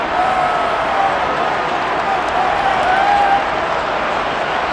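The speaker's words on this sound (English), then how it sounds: "How about some applause for the defense there?" Crowd applause and cheering from a simulated stadium in the Madden NFL 23 football game, Kansas City Chiefs versus Minnesota Vikings, a steady broad roar that holds for several seconds with no break.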